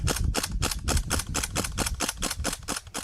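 A Springfield Armory M1 Carbine BB gun dumps its magazine in about a dozen sharp, evenly spaced pops in quick succession, close and fairly loud, with no talking.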